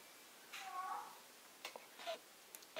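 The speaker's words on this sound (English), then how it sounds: "this is my cat Ginny" A pet cat meows softly indoors, one drawn-out meow followed by a few shorter, quieter mews, fairly faint and alone with no talking.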